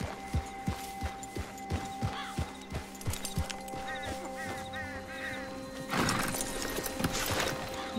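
A horse in the video game Red Dead Redemption 2 trots with steady clip-clop hoofbeats, then neighs and whinnies, layered over game ambience and a louder burst of noise near the end.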